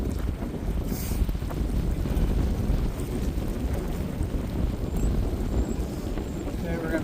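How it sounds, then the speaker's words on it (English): Steady, heavy, cold wind buffeting the microphone with low rumbling gusts throughout, a continuous outdoor roar on the Hudson River. "it's windy and cold here"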